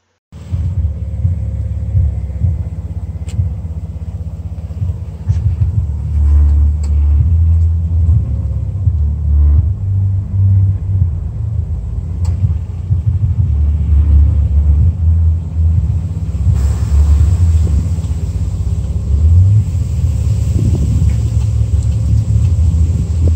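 A modified car engine rumbles at idle, a deep, loud and steady low throb close to the listener, with uneven pulses and a brief rise near the end and no voices.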